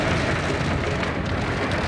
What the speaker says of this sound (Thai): ตอนนี้ฝนตกหนักเลยครับ